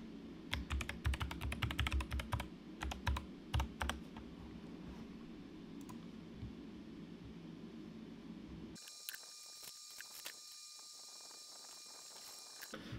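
Someone types login credentials on a computer keyboard in fast, close clicking bursts and single keystrokes for several seconds. The sound then gives way to a quieter hiss with a faint high whine.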